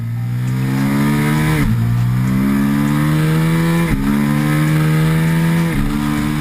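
A KTM RC8R superbike with a 1190cc V-twin engine climbs through several loud, close acceleration pulls, its pitch dropping sharply at each gear change.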